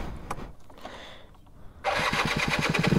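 A motorcycle engine, hard to start with an unsteady idle, is cranked after a few quiet clicks and knocks, then catches and roars into a loud, throbbing run that pulses up and down.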